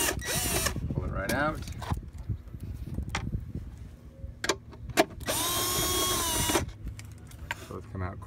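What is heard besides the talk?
power drill removing bolts on a steering nozzle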